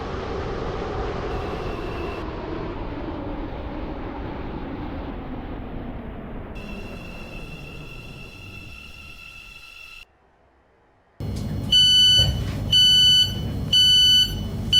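A five-coach video game train runs with a steady rumble and a whining tone fading down, then a brief silence followed by loud repeating electronic beeps in regular bursts.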